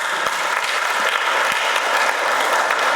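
Applause fills a press conference for the PDCI-RDA in Côte d'Ivoire, marking the party's 80th anniversary festivities. It is a dense, steady wash of many hands clapping at once, holding at an even level throughout.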